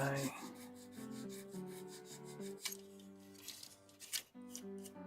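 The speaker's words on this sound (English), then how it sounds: "this one needs some sanding" Steady rasping strokes of fine sanding on a small hard plastic part of a 1/72 Bandai model kit, close up, with soft music playing underneath.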